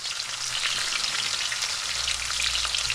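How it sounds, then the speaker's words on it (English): Steady, dense sizzling of zucchini slices frying in hot olive oil, a continuous crackling hiss close up with no voices. "you're really kind of frying the slices on all sides."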